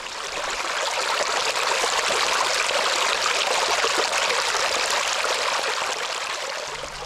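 A small creek flows steadily during a hike crossing in Uwharrie National Forest, its continuous close trickling and rushing water holding an even level throughout with no talking.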